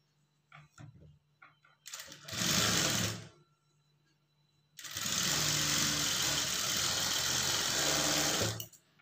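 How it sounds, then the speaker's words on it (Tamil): Sewing machine stitching folded blouse fabric, running in two loud bursts, a short run and then a longer steady run of several seconds, with quiet handling noises between them. "இப்போ இந்த கிளாத்தை உள்பக்கம் திருப்பிட்டு அப்படியே மடித்து வந்து தையல் போட்டுக்குங்க."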